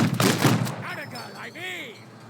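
Automatic turret firing in the video game MENACE, a quick run of loud shots at the start, followed by sweeping synthetic chirps and whooshing sci-fi effects as the burst fades.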